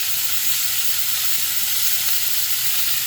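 Butter sizzles with vegetables and pork in a single pan, giving a steady, close frying hiss with no pauses that lasts the whole moment.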